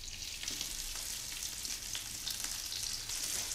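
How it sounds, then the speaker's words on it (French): Prawns fry in peanut oil in a hot pan, a steady close crackling sizzle with spitting pops throughout, with no voices. "dans une poêle chaude, mettre de l'huile d'arachide ou de l'huile de friture et disposer les gambas."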